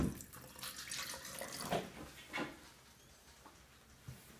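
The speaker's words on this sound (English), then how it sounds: "now put water in it" Water poured into a container for a homemade instant snow experiment, a splashy trickling that comes in short bursts with a couple of louder gushes, close by and without talk.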